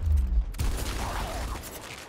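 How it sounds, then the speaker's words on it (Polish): A heavy burst of gunfire in the video game Gears Tactics booms at the start, followed by a low, rumbling wash of noise that fades out. "Ty masz jeszcze jeden strzał"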